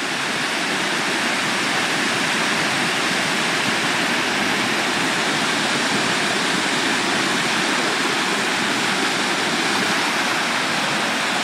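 A large waterfall roars in a loud, continuous, dense rush of falling water heard up close, steady throughout with no voices.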